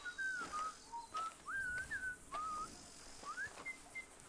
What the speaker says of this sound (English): What's that whistle thing?